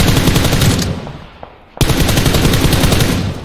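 Rapid automatic gunfire in a shooter video game, loud and continuous bursts aimed at the player, with a brief lull and a single shot before the dense firing resumes.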